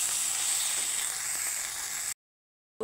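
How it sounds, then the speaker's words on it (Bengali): Okra fries in oil in a pan with a steady, even sizzling hiss that stops abruptly, then briefly resumes. "এখানে আমার ভেন্ডিটা ভাজা হয়ে গেছে"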